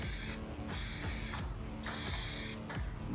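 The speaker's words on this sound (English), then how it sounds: "Spray this a little heavy." Bursts of aerosol spray paint hiss across moldings for a 1979 Mustang Cobra Fox Body, three long near pulses with brief gaps between them, loud and steady with no talking.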